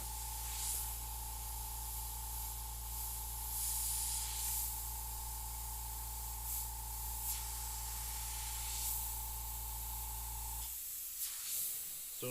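An airbrush spraying paint while pulling bold lines on a koi painting gives a steady close hiss that runs unbroken for about ten seconds and then cuts off.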